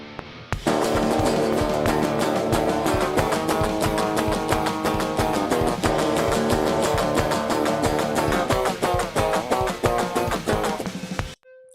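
Multitracked pop song in production with layered guitar and drums playing steadily throughout, dense and loud, a rhythmic beat driving the full mix before stopping abruptly at the end.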